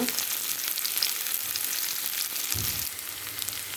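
Tomatoes sauté for a drumstick leaf kootu, a steady close frying sizzle running the whole time with a brief louder stir or clatter near the end, no voices.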